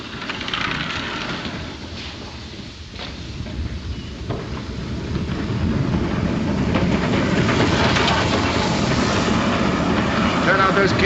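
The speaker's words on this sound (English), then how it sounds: "The train's coming in." A train rumbles into a station in a 1941 film scene, a broad, steady rolling roar that grows louder and closer over several seconds.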